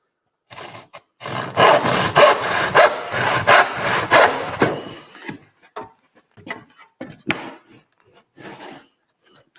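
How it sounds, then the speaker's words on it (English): Hand sawing through wood: about a dozen quick, rasping back-and-forth strokes close by, then slower, scattered scrapes with pauses as the cut finishes. "I can finish sawing"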